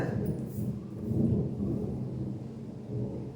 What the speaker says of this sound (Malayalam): മഴ പെയ്യുന്നുണ്ട് കേട്ടോ മഴയ്ക്കുള്ള ഇടി വെട്ടുന്നുണ്ട്